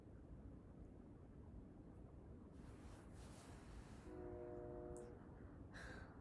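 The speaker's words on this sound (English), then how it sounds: "I don't know if you heard that, the train's going by." A train passes at a distance, a steady low rumble of rail traffic with a brief horn-like tone partway through and a rising whoosh near the end, heard alone without talk.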